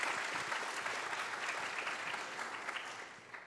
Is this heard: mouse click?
no